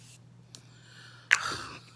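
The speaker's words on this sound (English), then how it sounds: "And I have my Morphe setting spray." A quick hissing burst of Morphe makeup setting spray, close and sharp, fading over half a second after a couple of faint puffs earlier.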